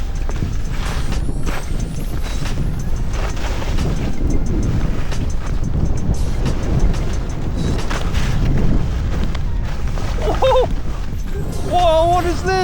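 Wind buffeting an Insta360 Ace Pro 2 action camera fitted with its foam wind muff, a steady low rumble throughout, with voices talking over it and brief whistling tones near the end.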